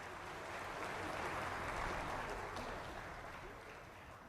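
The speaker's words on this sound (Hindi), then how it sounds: "जोरदार तालियों के साथ" A crowd at the Kushinagar airport inauguration ceremony bursting into sustained applause, a dense wash of many hands clapping that swells and then gently fades over a few seconds, heard from a distance and fairly faint.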